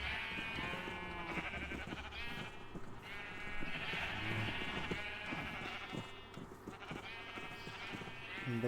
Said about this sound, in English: It's the Great Sheep Migration.